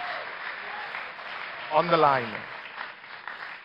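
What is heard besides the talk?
audience applause for presidential debate candidates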